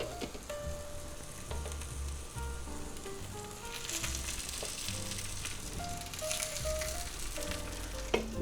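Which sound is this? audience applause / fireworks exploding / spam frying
spam frying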